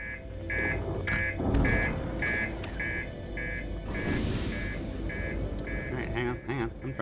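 An alarm in the space exploration game Outer Wilds pulses in a regular series of short, even electronic beeps, about ten in a row, with speech and other game sounds underneath.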